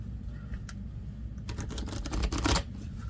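Quiet crisp riffling of cards being shuffled, a couple of short bursts of rapid flicking over a low background hum.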